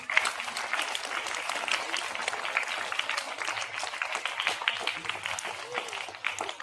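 An audience claps steadily throughout at an event raising support for the blind, a continuous moderate round of applause from a room of people with no pauses.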